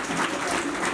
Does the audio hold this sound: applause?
yes